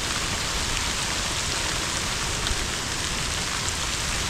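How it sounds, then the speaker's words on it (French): Sleet and hail fall in a March shower at a woodland logging site, a dense, even hiss of pellets striking the ground that holds steady and fairly loud throughout, with no voices. "Beau petit grésil."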